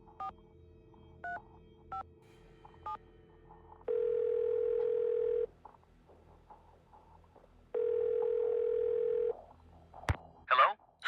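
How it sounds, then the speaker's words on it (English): Telephone dial tone from the Nancy Drew game The White Wolf of Icicle Creek: a few short dialing beeps, then two long steady tones separated by a gap, ending with a brief click and crackle. "Maybe let's start by calling Ned. 523 555 4357"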